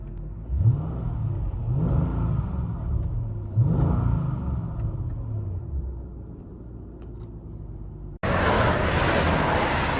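Inside a 2006 Mercedes CLS 550 Bi-Turbo AMG with dual exhaust and a resonator delete, the engine rumbles low and muffled, with a few swelling revs. A sudden burst of louder, brighter exhaust roar follows near the end.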